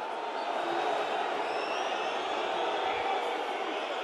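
A large rugby stadium crowd at a Top 14 match between La Rochelle and Toulon gives a steady, broad roar of disapproval after a try is disallowed, with a few faint whistles running through the distant, sustained din.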